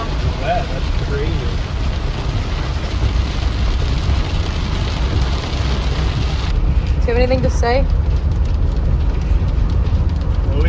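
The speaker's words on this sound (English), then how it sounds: "It keeps going on and off, but at some points it's literally just downpouring." Heavy rain drums as a dense, steady hiss on a van during flash floods in Arches National Park, heard from inside, while people talk over it.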